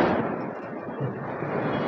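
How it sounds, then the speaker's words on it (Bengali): Firecrackers burst on Diwali night in Mumbai as a dense, continuous roar of overlapping pops and bangs that blend into one loud wash. "বমেরও আওয়াজ পাচ্ছ, কত বম ফাটছে চারিদিকে"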